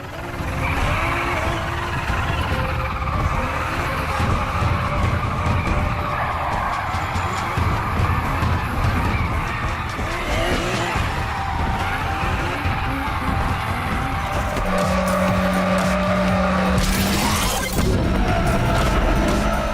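Tires squeal and skid as cars drift in a racing video game, with a continuous dense screech, engine roar and occasional crashes layered with game music, loud and unbroken throughout.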